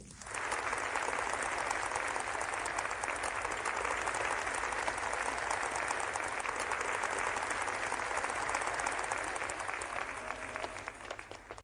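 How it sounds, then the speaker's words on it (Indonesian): An audience at a ginseng auction house claps warmly and steadily for about eleven seconds, a dense, even wash of applause with no voices heard over it. "mari sambut inisiator lelang ini dengan tepuk tangan meriah"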